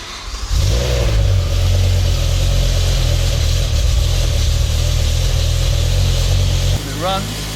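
A BMW E60 M5's V10 engine idles slightly rough after sitting a few days, a loud, steady low rumble that holds for several seconds before dropping away, with a brief voice near the end.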